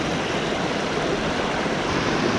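Rushing water flows steadily, a loud, broad, unbroken wash of sound like a fast creek running over rocks, at Sweetwater Creek near Atlanta, Georgia.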